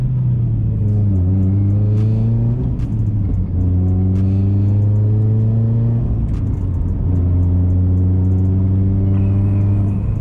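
A car being driven on a rough road after work on its shifting gives a loud, steady engine drone, with the pitch climbing through the gears between brief dips at each shift.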